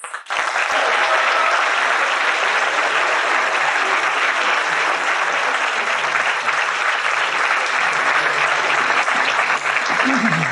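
An audience at a Stanford talk on scaling sustainability applauds to welcome guest speakers, a loud, steady wash of clapping that swells in at once and holds for about ten seconds.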